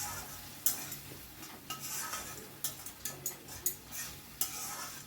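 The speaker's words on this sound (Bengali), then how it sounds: "আবার একটু নাড়াচাড়া করে দিচ্ছি" Tomato masala for an egg and coriander omelette curry is stirred in a cooking pan, a soft sizzle under a string of distinct spoon scrapes and taps against the metal, close and fairly quiet.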